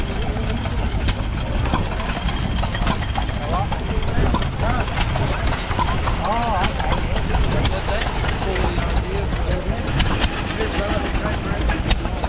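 Several vintage stationary engines chug and idle steadily in the open at a vintage weekend show, a dense continuous mechanical rumble with crowd chatter mixed underneath.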